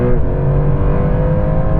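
A Porsche 911 Turbo S engine revs hard in third gear, a loud, steady, close-up roar climbing continuously with no talk over it.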